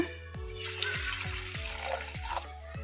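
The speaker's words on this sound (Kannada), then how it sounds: "ಈಗ ಇದಕ್ಕೆ ನೀರು ಹಾಕೋಣ ಬೇಳೆ ಕುದಿಯೋಕ್ಕೆ ಎಷ್ಟು ಬೇಕೋ ಅಷ್ಟು ನೀರು ಹಾಕೋಣ" Water pours onto washed toor dal in a pot, a continuous close splashing trickle with a rhythmic series of low knocks underneath.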